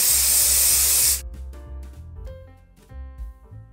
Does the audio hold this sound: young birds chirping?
no